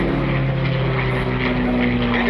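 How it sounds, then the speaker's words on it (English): A Rolls-Royce V12 Merlin piston engine drives a warbird through an aerobatic hesitation roll at an air show, a loud steady droning roar held throughout. "a Rolls-Royce V12 Merlin engine, manufactured for Mustangs and other airplanes"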